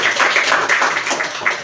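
A classroom group applauds a lesson on forgiveness, a dense burst of clapping from many hands close by, steady throughout with no pauses.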